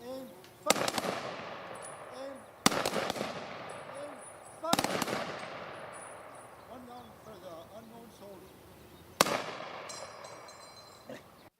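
Gun salute at a veterans' ceremony: four sharp rifle volleys spaced a few seconds apart, each ringing out with a fading echo, while a voice talks over them.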